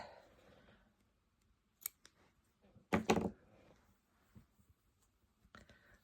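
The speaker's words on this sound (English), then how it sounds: "Slip stitch it, pull it tight, okay, and then I'm going to snip it off." Scissors snip off yarn after a slip stitch, a few faint quiet cuts and clicks, one crisper snip standing out amid soft handling noises.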